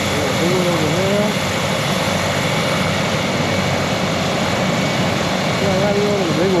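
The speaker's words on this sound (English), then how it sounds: "Helicopter, black little helicopter tour right there." A helicopter at a tour site makes a steady, loud engine and rotor drone that runs unbroken throughout, with a few faint bird calls over it.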